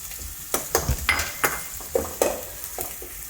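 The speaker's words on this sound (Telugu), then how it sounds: "నూనెలో అల్లం వెల్లిగడ్డ పేస్ట్ వేసుకుందాము." Ginger garlic paste frying in hot oil in a pan, a soft steady sizzle broken by repeated clinks and scrapes of a spoon stirring, about eight sharp taps in a few seconds, close and with no talking.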